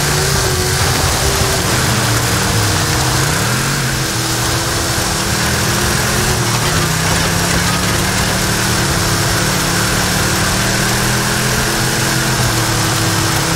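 A loud, throaty monster truck engine in Forza Horizon 5 rumbles and revs continuously, its pitch rising and dipping in wavering sweeps like a big truck motor idling and accelerating.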